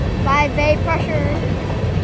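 A Wheeling and Lake Erie freight train hauling grain cars passes at a fair, coming off the CSX main line, giving a steady, close rumble with a few brief tonal wails and faint voices near the start.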